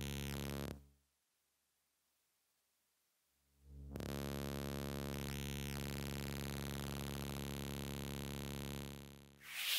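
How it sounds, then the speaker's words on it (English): Electronic leak detector monitoring a leak in a vinyl pool liner, giving a steady droning electronic tone with fine harmonic bands; it cuts out briefly near the start, then returns and holds steady, ending with a short burst of noise. "Here's the sound of an actual leak."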